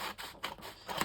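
Scissors snipping through a paper image for a journal, a few soft, close cuts spread over a short quiet moment with no talking.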